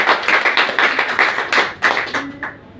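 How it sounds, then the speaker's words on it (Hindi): A small group of people in a class claps, giving a quick run of sharp, fairly loud hand claps in an uneven rhythm that thins out and fades near the end. "तो हमारे सर के लिए जोरदार ताली होना चाहिए।"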